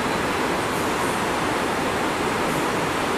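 River flowing below a hillside restaurant in the Dominican Republic, a constant loud rushing wash of water that stays even throughout with no voices.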